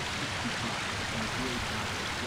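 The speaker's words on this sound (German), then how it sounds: "das Wasser so laut, dass man nicht hört, was der Typ erzählt" Loud rushing water in the game Zork Nemesis makes a steady, broadband roar like a stream or waterfall, filling the scene and masking a faint voice beneath it.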